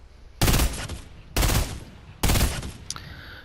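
Three loud, evenly spaced bursts of burst rifle fire in Fortnite, each a quick cluster of rounds with a short decaying tail, heard alone without talk.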